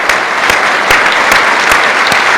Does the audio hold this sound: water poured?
no